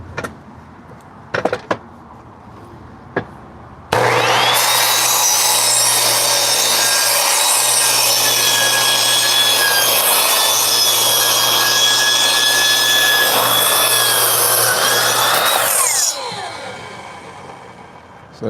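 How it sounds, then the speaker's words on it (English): A thickness planer cuts the edges off a wooden board, giving a loud, continuous roar of about twelve seconds that winds down at the end, after a few faint knocks. "first I have to take this to my thickness planer, just cutting off these edges"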